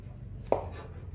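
A single short knock as the lid closes on a LOD HMA-8300 power amplifier, a Hitachi-made LOD unit, heard close by against a quiet background.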